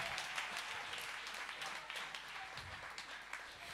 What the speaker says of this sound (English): Come on. Clap hearties,